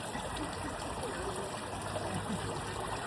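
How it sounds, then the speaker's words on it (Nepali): A waterfall near Dharan makes a steady, dense rush of falling water, unbroken and fairly close, filling the whole moment. "झरना है गाइस"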